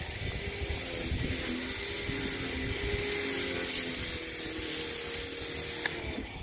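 Continuous hissing spray of a pressure washer washing a Nissan Armada SUV, steady and close, with a harsh rushing texture and faint mechanical hum beneath.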